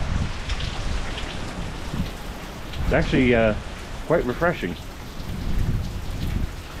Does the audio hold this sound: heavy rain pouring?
yes